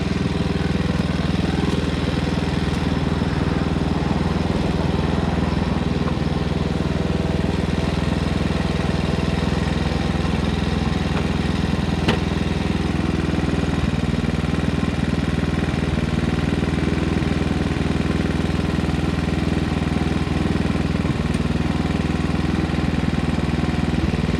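A lawn mower engine runs loud and close for the whole stretch, a steady unbroken drone with a rough mechanical rattle.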